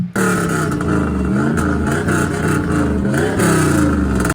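A Trans Am's exhaust revs hard and continuously, with a tinny, hollow, raspy drone that stays loud and close through the whole stretch, ending abruptly.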